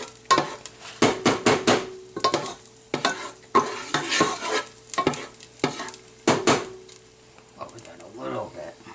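Garlic sizzles in a hot pan while a utensil scrapes and stirs it in quick bursts, with short pauses between strokes and soft frying hiss throughout.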